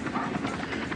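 Military helicopter with a steady rotor thrum and engine drone, continuous and fairly loud through a short burst.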